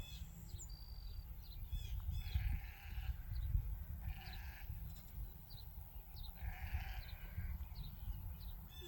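Sheep and lambs bleating on a farm, with repeated short bleats from several animals at varying distance over low rumbling wind and some bird calls.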